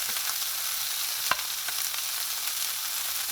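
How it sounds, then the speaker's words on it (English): Quail browning in a hot pan, a steady close sizzle of frying meat with a faint clink partway through and no voices. "We're just going to get some browning and some color on it."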